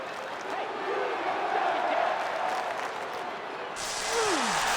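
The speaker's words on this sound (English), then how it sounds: "And the crowd is loving it." A broad steady crowd roar fills a WWE 2K25 wrestling arena, swelling slightly toward the end, with a commentator's voice speaking over it.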